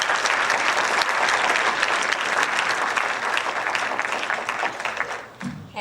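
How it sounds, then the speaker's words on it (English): A school band concert audience claps steadily after a trumpet solo, a dense, loud wash of applause that holds strong and then thins out toward the end. "Please give Marcelo another round of applause for his trumpet solo."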